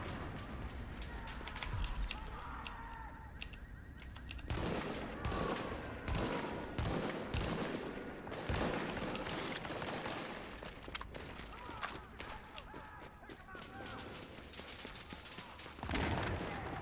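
Gunfire in The Division video game: rapid bursts and sustained volleys of automatic fire with sharp repeated shots, loud and close, and brief pauses between bursts.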